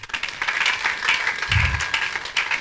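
A church congregation breaks into applause to acclaim the Lord during a sermon, a dense, loud burst of many hands clapping that fills the space throughout.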